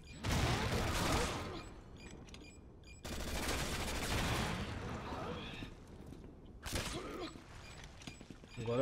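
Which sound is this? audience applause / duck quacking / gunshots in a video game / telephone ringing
gunshots in a video game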